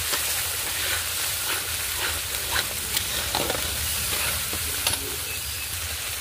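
Spice paste of turmeric and chili powder mixed with water, frying and being stirred in a pan, giving a steady close sizzle with scraping strokes throughout.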